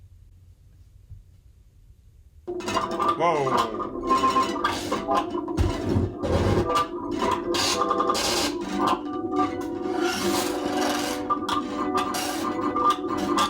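A dense, layered electronic track plays after a quiet opening, with glitchy percussive bursts, sustained tones and busy high textures at steady loudness; a voice briefly exclaims near the start.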